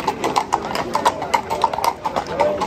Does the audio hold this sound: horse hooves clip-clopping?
yes